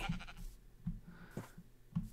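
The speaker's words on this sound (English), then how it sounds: "Look at this lonely sheep." A Minecraft sheep bleats several times in an uneven rhythm, each call short and moderately loud against quiet game ambience.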